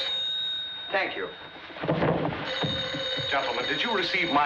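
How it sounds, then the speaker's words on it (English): A telephone bell rings in a comic stage scene, its bright steady tone running under several voices talking and shouting over it. "It's the phone, stupids."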